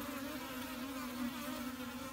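Honeybees moved during a hive transfer make a steady, dense buzzing hum. It is faint but continuous throughout, with no voices.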